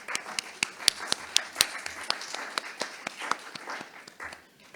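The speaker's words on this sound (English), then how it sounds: "please, a big round of applause to our 6 presenters" Conference audience applauding six presenters at an event on universal electricity access in Belize: quiet, scattered clapping from a modest crowd, steady for a few seconds and then tapering off.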